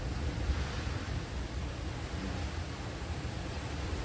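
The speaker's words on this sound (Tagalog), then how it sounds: "Yan o, lakas ng hangin." Strong wind blusters across the microphone outdoors at a pigeon loft, a loud, continuous roar of rushing air with no talking.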